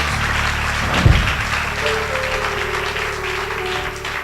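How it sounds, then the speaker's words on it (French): A church congregation applauds during a Sunday service, a dense, sustained wash of clapping that fills the space throughout, with a brief thump partway in. "acclame Jésus, acclame Jésus, acclame"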